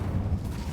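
Incendio fire spell cast in Hogwarts Legacy, a short low rumbling whoosh of flame, brief and fairly loud, heard alone.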